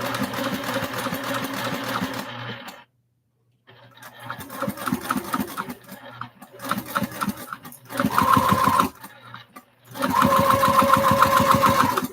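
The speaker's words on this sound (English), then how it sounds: "Sew them down and set it aside." A sewing machine stitches straps down on a crossbody bag in fast rattling bursts of needle strokes, stopping briefly between runs, with a clear pause early on and the loudest stretches near the end.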